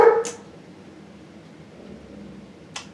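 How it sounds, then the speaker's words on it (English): A dog lets out a sharp bark at someone walking by outside, then a second bark follows a few seconds later across a quiet room. "Dog's always gonna be fucking bitching at something."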